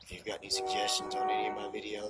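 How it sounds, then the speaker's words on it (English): A sustained train horn sounds steadily in the distance beneath a man's close, continuous speech. "pardon the train horn"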